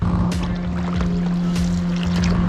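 A motorboat passing on the Psel river during autumn pike fishing, a steady droning engine hum with lapping water, fairly close and continuous, no voices.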